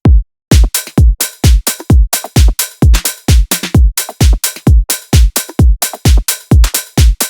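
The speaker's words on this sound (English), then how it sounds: "The drums sound like this." A minimal bass drum loop from the Odd Frequency Grid sample pack pumps in tight, punchy kick hits in a fast, even groove, loud and dry with crisp transients, no voices.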